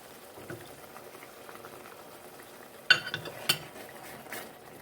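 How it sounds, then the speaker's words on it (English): Black peppercorn sauce thickened with gravy granules simmers quietly in a pan while being stirred, with soft bubbling under a few sharp clinks and scrapes of the utensil against the pan. "it's just simmering. Continue stirring, make sure it doesn't catch"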